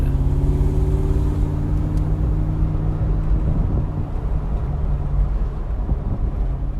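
Supercharged V8 of a Mercedes-Benz G55 AMG rumbles loudly and steadily, with a rising whine from the supercharger layered over the deep engine note as it builds revs, no voices.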